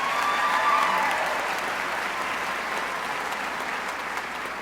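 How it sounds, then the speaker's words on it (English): A brief round of applause from an audience at an awards evening, broadband clapping that starts strong and tapers slightly, with no talk over it. "quick round of applause for Hannah"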